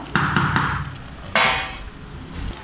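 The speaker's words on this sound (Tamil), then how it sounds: "மூடி போட்டு மூடி வச்சிடலாம்." A metal lid clanks down onto a pot of mutton biryani with a sharp knock, followed by a second clatter, close by with no talking.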